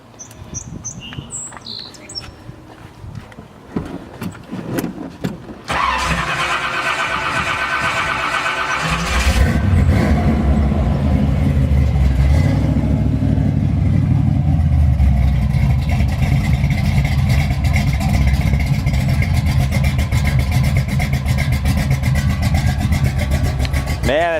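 A restored 1968 Chevrolet Camaro engine cranks and catches after a few quiet seconds, then swells into a loud, close, steady rumble with revving.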